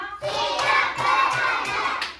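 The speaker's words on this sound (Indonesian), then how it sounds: "Tepuk 1. Tepuk 2. Tepuk 3. Tepuk 4. Tepuk 5." A classroom of children in a primary Islamic religious lesson clap together in a steady counted rhythm, with young voices chanting along over the claps.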